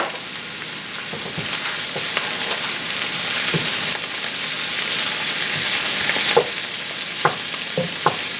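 Gravy for a gluten-free, dairy-free chicken pot pie sizzles steadily in a pan with added plant-based oil, a continuous bright hiss broken by a few soft stirring knocks and scrapes near the end, with no talking.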